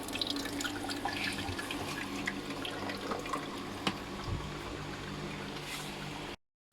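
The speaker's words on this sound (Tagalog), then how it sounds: "Tapos magre-refill ulit na tubig, cycle ulit." Water trickles and drips steadily as a Hanabishi HICEMAKER240 ice maker refills, a continuous watery fill with occasional small knocks, then cuts off abruptly.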